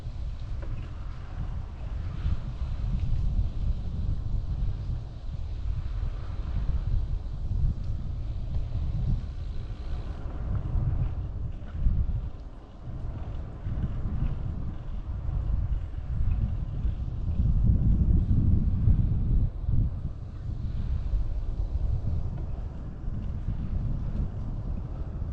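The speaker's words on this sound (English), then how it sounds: "I feel a little wind behind me" Steady wind across open country farmland, buffeting the microphone as a continuous low rumble. It swells and eases slightly over time, with no speech.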